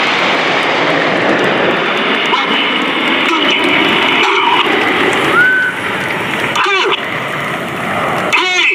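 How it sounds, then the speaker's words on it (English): Nine RAF Red Arrows jets break into the circuit at an air show in New York, a loud continuous roar of aircraft engines sweeping overhead, rising and falling as they pass, with crowd and wind noise around them. "that's all 9 aircraft breaking into the circuit from the Stars and Stripes arrival"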